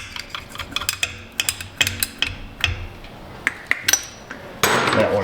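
Metal 10 mm tool clicking and tapping against a nut on the front of a Buick Encore rear differential, irregular sharp ticks and knocks, close up, ending in a short burst of rougher noise.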